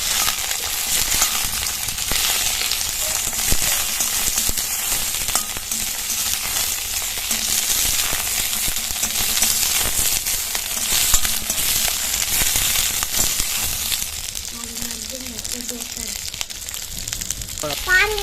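About fifteen green chillies fry in oil in a pan, giving a loud, continuous sizzle with occasional stirring scrapes throughout, close to the microphone.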